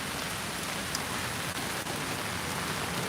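Heavy typhoon rain from Typhoon Kompasu hisses in a dense, steady downpour under an amber rain warning with little wind, loud and unbroken throughout, with no speech.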